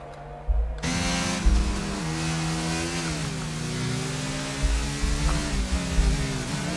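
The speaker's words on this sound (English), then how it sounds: "Click's now approaching the safety car as well, as it will be yellow, so that means they will have to start queuing up behind the safety car." Race cars in a racing video game hold formation behind a safety car at the Portugal round, their engines droning steadily with gently shifting pitch and occasional revs, loud and continuous with no talk.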